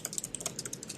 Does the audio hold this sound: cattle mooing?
no